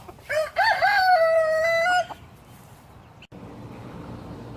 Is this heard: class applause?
no